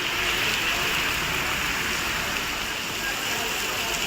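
Heavy rain pours down in Tamil Nadu, a dense, even hiss of falling water that stays loud and unbroken throughout.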